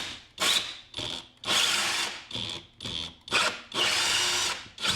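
A power drill bores a pilot hole through a bathroom panel on a Navy barge, whirring loudly in repeated bursts with short pauses between pushes.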